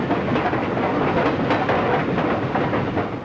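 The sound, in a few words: Flying Mercury train of the New York Central running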